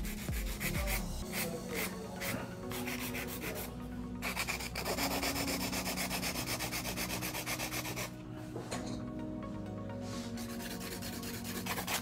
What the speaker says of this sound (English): It's 100-100 grit that I'm using right now to do the hand filing.